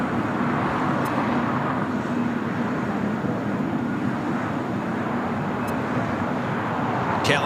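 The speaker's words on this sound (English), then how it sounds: "This is Porter 664 taking off to Toronto on a" A Porter Embraer 195 E2 airliner taking off at LAX, a steady broadband jet roar heard from a distance, sustained and even across the whole stretch.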